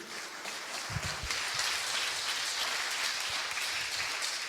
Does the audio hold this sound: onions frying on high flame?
no